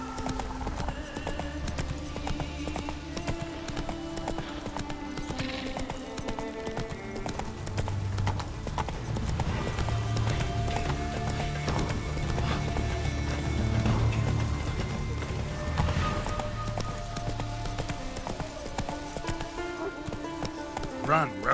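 Roach, the horse in The Witcher 3, galloping with a steady clip-clop of hooves under game music, while voices talk over it at times.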